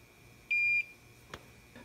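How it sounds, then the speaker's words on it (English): A Hakko FX-951 soldering station gives one steady, clear electronic beep lasting about a third of a second as it reaches temperature, then stays quiet apart from a faint click. "And there's the beep, and there's the sleep."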